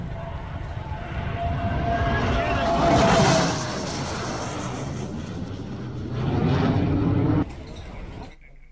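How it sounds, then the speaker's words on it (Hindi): A military aircraft landing on an airstrip during a wartime rehearsal gives a loud, sustained engine roar that swells and fades, with a broad rumble cutting off near the end. "युद्ध के हालात में एयर स्ट्रिप पर विमानों की लैंडिंग को लेकर रिहर्सल की"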